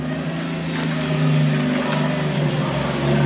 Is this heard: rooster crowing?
no